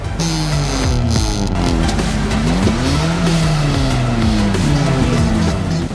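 Car engines roar and rev loudly at an auto show held at a mall in Islamabad, with tires squealing and skidding over a continuous, close, overlapping din of sliding engine pitches.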